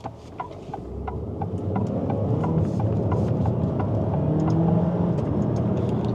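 A 2024 Alfa Romeo Tonale Veloce PHEV drives steadily, its engine a continuous mid-pitched drone with road rumble that swells slightly in the first second and then holds even, with no talk over it.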